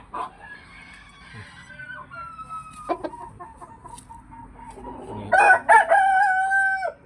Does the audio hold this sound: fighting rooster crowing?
yes